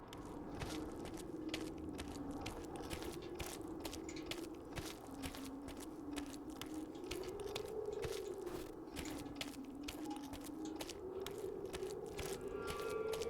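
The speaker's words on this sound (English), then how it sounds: "Just the sound of walking through icy sludge." Footsteps trudging through icy sludge in the video game Indika, a steady run of wet, crunchy, scraping steps that carry on unbroken under a continuous low ambient hum.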